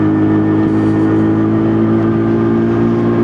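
WK Colt motorbike pulling in fourth gear through town traffic, its engine a steady, loud mid-pitched drone with strong harmonic hum and a slight rise, heard close with wind rush and no voices.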